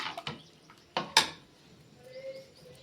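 A spoon clinks against a pot while tomato rasam ingredients with coriander leaves are mixed together: a few sharp metallic taps and scrapes close up, followed by quieter faint rustling.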